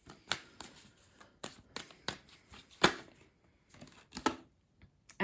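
Tarot cards being shuffled and drawn by hand, a run of crisp papery riffles and snaps with short pauses in between, close and fairly quiet, with no talking.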